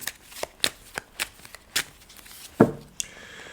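Tarot cards shuffled by hand, a quick series of crisp riffling flicks and taps close by, ending in a single firmer slap, with no talk over it.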